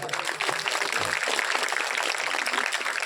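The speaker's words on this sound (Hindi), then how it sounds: "और हीरा भैया के लिए भी ताली जोरदार।" Clapping from a gathering at a religious recitation event in Jalandhar, a steady, fairly close burst of hand claps lasting a few seconds.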